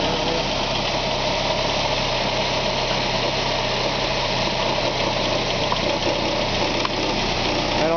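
A Saab car engine with a head gasket problem idles steadily and loudly for the whole stretch, a continuous rumbling drone with a faint rough knock underneath and no voices.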